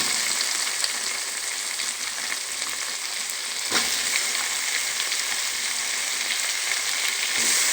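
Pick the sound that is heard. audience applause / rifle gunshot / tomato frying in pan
tomato frying in pan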